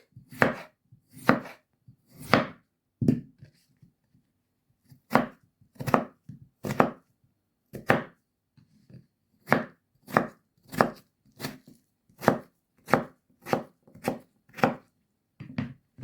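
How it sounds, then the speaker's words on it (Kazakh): A knife chops potatoes on a cutting board for manti, with about twenty sharp, close knocks. The strikes fall in a mostly steady rhythm with brief pauses and no talking. "Енді картошкамызды турап аламыз."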